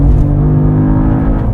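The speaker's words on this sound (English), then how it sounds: "if I downshift and floor it" A 2022 Cadillac CT4-V Blackwing engine drops a gear and pulls hard, a loud, close, steady low rumble holding throughout with no break or pause.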